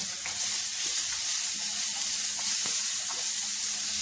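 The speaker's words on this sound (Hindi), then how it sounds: "अब इस प्याज को भून लेंगे" Chopped onions fry in a pan with a constant close sizzle and hiss, steady and unbroken, with faint occasional ticks.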